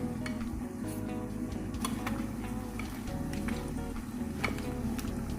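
A spoon stirs fruit punch of seasonal fruits with sugar syrup in a bowl, giving a steady clinking and swishing with small sharp taps scattered throughout, no voices.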